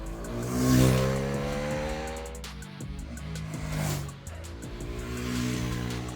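A brand-new Hero Karizma XMR's single-cylinder engine is revved hard toward 10,000 RPM, with loud induction noise. The pitch climbs and falls in two rising surges, close and loud, with no voices.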